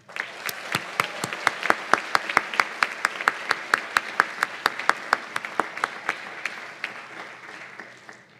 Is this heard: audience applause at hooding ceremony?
yes